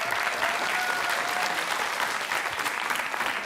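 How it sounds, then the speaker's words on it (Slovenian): An audience gives a big round of applause for the Lucija primary school team after a cup-stacking (speed stacking) competition, a steady, full wash of clapping that carries on without a break. "In seveda en velik aplavz za osnovno šolo Lucija."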